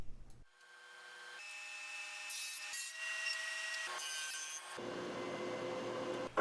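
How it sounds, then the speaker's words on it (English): A table saw fitted with a dado stack cuts dados across the ends of wooden cornhole board sides. A steady motor whine hums along, shifting pitch as the blade bites, with a louder, rougher cutting stretch near the end. "I cut dados across the ends of all 4 long sides"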